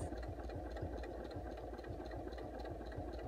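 Steady, even whirr of a sewing machine stitching quilting fabric along a ruler, running at a slow, constant pace with a fine rhythmic pulse, fairly quiet and close, with no talk.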